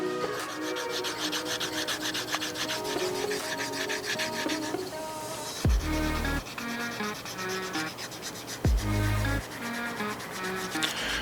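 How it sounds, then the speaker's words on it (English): Leather edge of handmade Air Jordan 1 shoe leather being rubbed back and forth to burnish it, a steady loud scraping friction with a couple of heavier strokes, no talking. "what we're gonna do is just rub it across"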